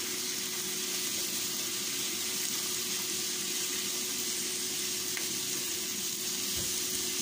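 Tomato and bell pepper sautéing in a pan over sautéed onion, a steady, close, even sizzle with a faint, soft hiss that continues with no talking.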